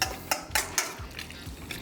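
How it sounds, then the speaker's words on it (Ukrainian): Butter melts in a frying pan as it is stirred with a utensil, giving a few quick scraping and clinking strokes close up over a soft sizzle. "Зараз чекаємо, масло зараз розтане."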